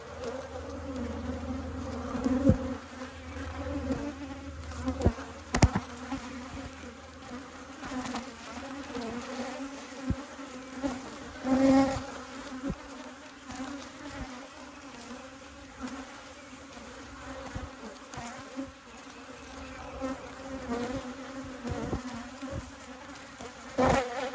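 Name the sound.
honey bees buzzing during hive inspection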